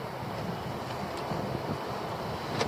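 On the seashore, a constant blustery wind with a low rumble and hiss, moderately loud and unbroken, no speech.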